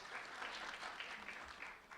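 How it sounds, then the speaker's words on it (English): Audience applause for an award honoree at a community recognition ceremony, a steady dense wash of many hands clapping at moderate loudness throughout, with no voices over it. "a round of applause for Miguel Cruz"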